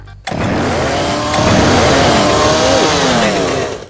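A chainsaw roars in a Roblox video game, starting abruptly and then holding a loud, buzzing engine whine. The pitch wavers and rises as it cuts, then tails off at the end.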